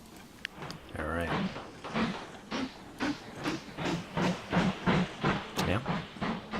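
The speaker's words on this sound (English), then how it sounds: "I gotta start that train up again" A steam train in the video game Mashinky chuffs in rhythmic, evenly spaced puffs that quicken slightly as it gets going, with hiss and rail clatter, while someone talks over it.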